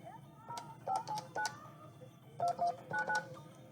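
A phone plays a series of touch-tone dialing beeps while a call is placed, short clear tones in two quick clusters over faint background noise and quiet room sound.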